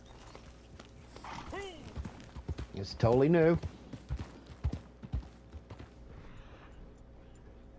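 Horse hooves in Red Dead Redemption 2 Online clip-clop at a steady pace while someone talks over them, with a horse's whinny and creaking in between.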